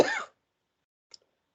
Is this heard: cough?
yes